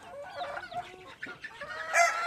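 Native village chickens at a small poultry farm in rural Shariatpur, Bangladesh, give overlapping clucks and short crowing calls, fairly close and busy throughout, rising to a louder burst of cackling at the end.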